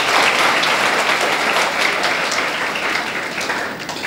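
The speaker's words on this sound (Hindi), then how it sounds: "एक बार ताली अपने लिए बजा दीजिए आप लोग" An audience at a coaching-class event for students selected in NEET breaks into sustained applause, a dense, loud wash of many hands clapping that continues without a pause.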